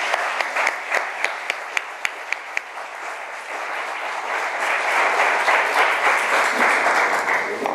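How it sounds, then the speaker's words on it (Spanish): An audience at a novel presentation starts with a few sharp, separate claps and then swells into a full ovation, a broad, steady roar of applause that holds through the end. "nuestra ovación, por favor."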